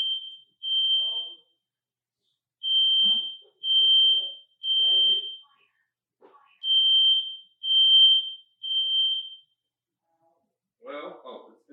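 A fire alarm sounds inside an apartment as a run of loud, shrill electronic beeps in short bursts with brief gaps, and voices talk quietly between the beeps before it stops.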